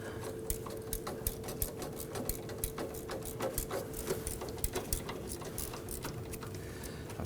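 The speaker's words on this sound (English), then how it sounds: "I just pop my gear wrench onto that to go ahead and run those in, or run this bolt in" Quick repetitive clicking of a gear wrench ratcheting a bolt in while reinstalling a fuel tank on a 2005–2009 Subaru Legacy 2.5L H4, steady close rhythm with a faint background hum.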